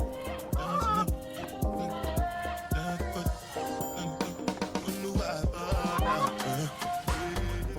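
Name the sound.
chickens clucking on a farm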